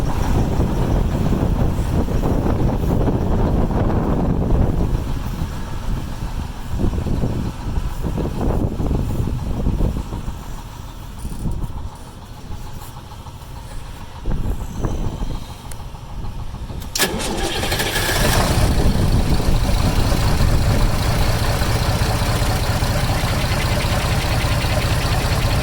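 A tractor engine starts and settles into a loud, close idle while warming up, its rumble dipping unevenly in the middle before returning to a steady, heavy drone.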